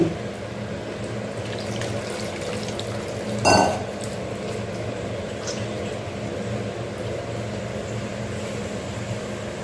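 Tamarind water is poured into a pot while cooking bottle gourd kulambu, a brief splashing burst close by over steady kitchen background noise.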